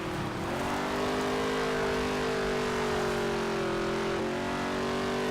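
Race car engine from NASCAR Heat 3 drones steadily at high revs, its tone holding near-constant and dipping briefly near the end as the throttle eases, loud and continuous with no voices.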